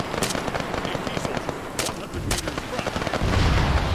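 Close, loud gunfire from an Arma 3 battle: rapid sharp cracks and bursts rattle throughout, with a heavier rumbling blast swelling at the end.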